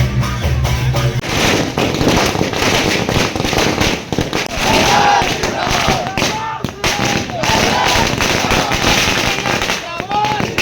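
Fireworks crack and pop continuously at a welcome celebration for a deputy chief minister in Sarsiwa, Chhattisgarh, alongside Karma folk dance festivities, a loud dense barrage with crowd noise and voices underneath.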